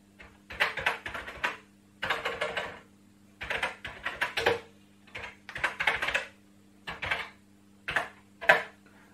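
Keys clack on the keyboard of The C64, a new reproduction of the Commodore 64, in quick close bursts of keystrokes separated by short pauses, with no voices.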